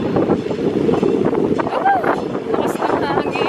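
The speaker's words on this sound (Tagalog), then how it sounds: "Lakas ng hangin." Strong outdoor wind buffets a vlogging camera microphone on a street in Taiwan. Loud, constant low rumble runs throughout, with faint background tones mixed in.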